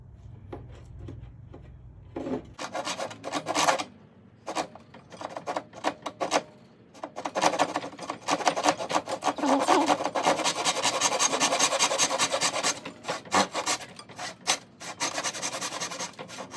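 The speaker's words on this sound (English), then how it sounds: "So this is the last cut for the white veneer." A saw cutting white veneer for a segmented guitar pen, giving a steady rasping, filing cut that runs in bursts with short pauses and then continues alone, fairly close.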